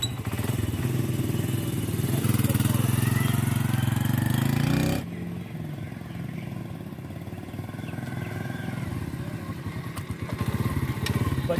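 A motorcycle runs close by with a loud, steady engine drone and wind noise, then continues more softly with a rougher, crackling rumble as the ride goes on.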